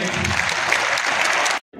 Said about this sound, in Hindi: मैं चाहूंगा उस टीम के लिए एक बार जोरदार तालियां हो जाए।